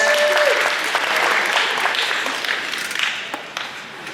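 A school crowd at a post-prom hypnosis show breaks into loud, sustained applause, a dense wash of clapping that fades slightly toward the end.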